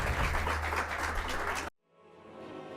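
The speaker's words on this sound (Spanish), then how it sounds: "Yo doy un aplauso y agradecerle de haber venido" Applause for a speaker at the close of a business debate: a dense, loud wash of clapping that stops abruptly partway through and gives way to a much quieter background.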